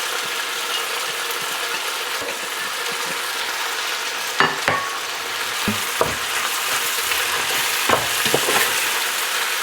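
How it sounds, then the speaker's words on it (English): Rice toasts in a hot pan as the Trinity vegetables are added, giving a steady broad sizzle with occasional clicks and scrapes of stirring, close and alone without talk. "while we're toasting up our rice, we're going to get the Trinity in there"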